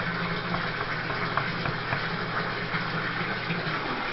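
Cold water gushes steadily from a tap into a bathtub being filled for an ice bath, a continuous close rushing stream with no speech over it.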